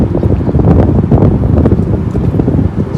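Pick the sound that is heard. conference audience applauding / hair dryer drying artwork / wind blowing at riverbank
wind blowing at riverbank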